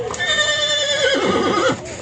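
Horse whinnying at a crowded livestock market near Bishkek, a long high neigh rising over a steady market hubbub with nearby voices, ending abruptly.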